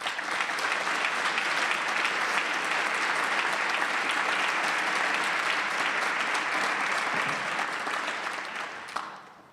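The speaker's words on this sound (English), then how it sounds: "all of us in this room applaud his bravery and his courage" An audience in a meeting room on LGBTQ human rights bursts into sustained applause, a dense, even roar of many hands clapping close by for about nine seconds before tapering off at the end.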